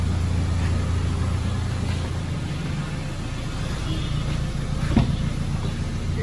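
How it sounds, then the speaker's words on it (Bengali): A Toyota Estima G Edition engine idles steadily and smoothly at close range, a continuous low hum with no talk over it and a small bump near the end. "ইঞ্জিনের সাউন্ডটা ভেরি স্মুথ, ভেরি স্মুথ"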